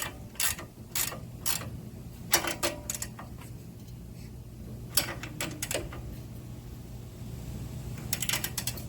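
Ratchet clicking in quick bursts with pauses while tightening a ball joint nut during a front hub actuator replacement, close and fairly loud with metallic ratcheting rasps.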